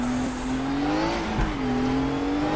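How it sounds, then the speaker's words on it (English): Six-cylinder race car engine in the RaceRoom hillclimb game, a steady loud drone holding a nearly constant pitch with a slight rise and dip, continuous throughout. "So we've got a 6-cylinder engine behind us,"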